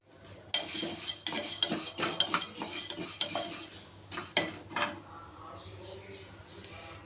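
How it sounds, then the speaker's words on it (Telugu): Lentils dry-roast in a pan, stirred with a metal utensil that rasps and clinks against the pan in quick bursts before the sound thins to a faint hiss, with no sizzle of oil. "ఇక్కడైతే పప్పునైతే వేయించుతున్నాను"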